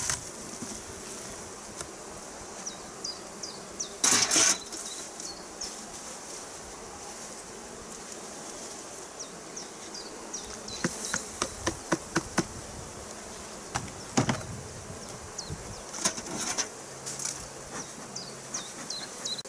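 Honey bees buzz around an opened hive during a spring inspection, a steady dense drone filling the air, with scattered sharp knocks and taps of hive parts being handled nearby.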